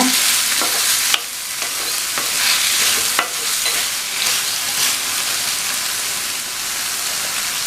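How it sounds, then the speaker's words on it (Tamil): Drumstick pieces (murungakkai) being stirred through masala frying in a pan, a steady loud sizzle with scraping strokes of the spoon at irregular intervals, close up and with no voices. "முருங்கைக்காயை சேர்த்துட்டு நல்லா ஒரு தடவை இந்த மசாலாவையே பிரட்டி விட்டுருங்க"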